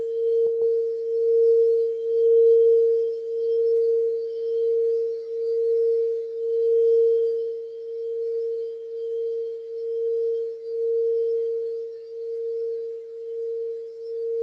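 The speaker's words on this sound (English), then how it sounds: "Vibrating to the sound of the sound bowl and the frequencies that it emits." A singing bowl rings with a steady, sustained tone during a guided meditation, holding one bright pitch throughout with gentle pulsing swells in volume and a faint strike near the start.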